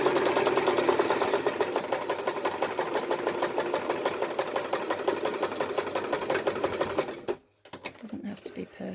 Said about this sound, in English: So we're doing a little bit of quilting here.